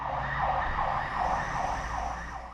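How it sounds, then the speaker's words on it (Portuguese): A fire station siren wails at a firefighters' post in Paraná, Brazil, rising and falling in slow, steady cycles, loud and continuous throughout with no voices over it. "Toca a sirene"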